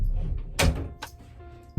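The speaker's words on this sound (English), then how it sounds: "Had to close the door" A door swings shut with a single dull thunk partway through, followed by a quieter knock near the end, in a small indoor room with low background hum.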